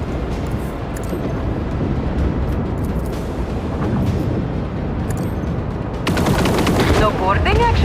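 Sustained, dense gunfire from a Warhammer 40K Rogue Trader–style space combat game rattles on loud and unbroken, with a brighter burst of crackling impacts near the end.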